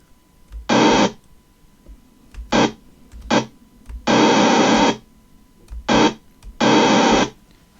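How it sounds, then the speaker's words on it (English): Bursts of white noise hiss on and off, some short and some about a second long, in an irregular pattern against a quiet background. "it plays some white noise, only whilst we've actually got our finger on the button"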